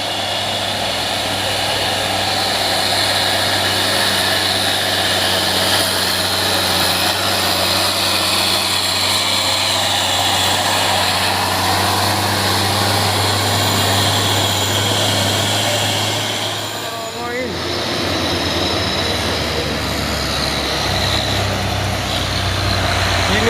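A loaded heavy 6x4 truck engine climbs uphill, droning steadily at close range, a deep sustained rumble with a brief dip before it picks up again.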